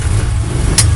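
A fuel-injected 2012 Kawasaki Mule 4010 utility vehicle engine revs in one brief, steady, loud burst, close by and alone.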